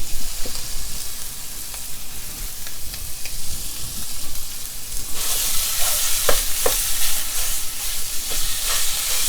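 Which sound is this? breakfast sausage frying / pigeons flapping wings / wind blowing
breakfast sausage frying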